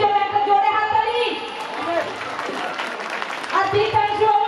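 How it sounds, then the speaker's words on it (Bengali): A crowd at a school's 75th anniversary function claps for the student drama team, with sustained applause that swells near the start and again toward the end, while voices mix in. "আর আমি সকল ছেলে মেয়েদের আমাদের এই নাটকের টিমের জন্য একটা জোরে হাততালি"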